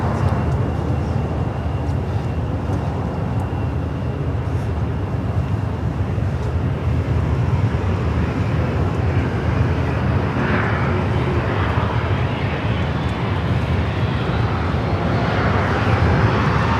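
An airliner arriving at LAX from Paris roars steadily and loud from nearby, a broad continuous jet rumble with a faint high whine swelling toward the end, heard from the south side of the airport without any talk over it.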